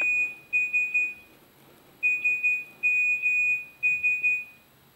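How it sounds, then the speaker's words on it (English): Classic Nokia SMS ringtone plays as clean electronic beeps in a Morse-code rhythm, short and long tones in clusters with a pause between groups, moderately quiet. "let's decode the Morse code messages in Nokia's ringtones"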